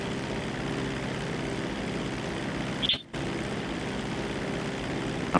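A helicopter flying in the GTA RP video game, a steady airborne engine and rotor drone held at an even level throughout, with one brief dip and a short higher-pitched chirp near the middle.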